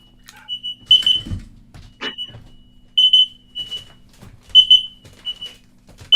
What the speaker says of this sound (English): My smoke alarms are going off.